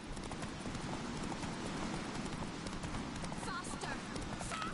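Roach the horse gallops in The Witcher 3, a steady rapid hoofbeat running continuously under loud mixed game sound and voices throughout.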